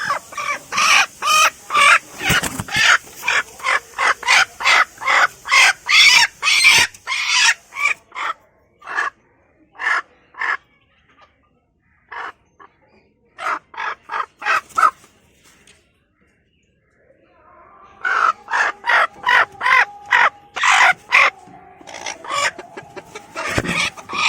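White and black hens cluck and squawk in a series of loud, rapid calls, with a noisy burst at the start, a quieter gap in the middle, and dense calling again near the end.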